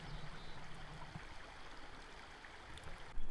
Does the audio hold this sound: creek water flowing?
yes